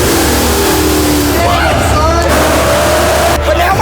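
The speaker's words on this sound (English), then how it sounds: "That's a real burnout from the Mopar." A Mopar car does a burnout at a drag racing event, its engine revving hard and rising in pitch under loud crowd noise and voices.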